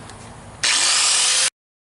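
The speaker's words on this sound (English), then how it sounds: "I think I'm going to take the grinder back to it and go in the other direction" A grinder is worked against a wood surface in one loud, steady, close burst lasting under a second, preceded by quiet room tone and cut off abruptly into silence.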